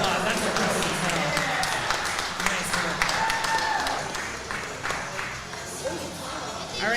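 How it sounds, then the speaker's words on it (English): Applause breaks out from a crowd at a holiday charity event, a sustained close wash of clapping with people talking and calling out over it. "Big round of applause."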